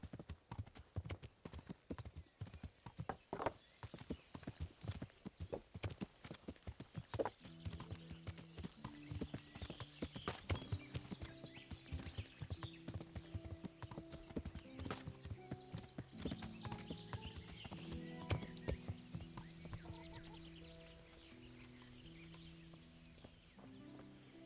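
Horse hooves clip-clop steadily in the medieval game Kingdom Come Deliverance, a quick regular beat that carries on throughout while hens cluck in the background and a soft melodic tone runs underneath.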